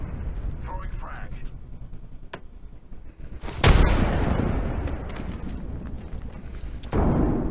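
Frag grenade thrown and exploding in a ranked online shooter match: a loud, close, booming blast with a long rumbling tail, following lighter clicks and a sharp crack, then a second burst near the end.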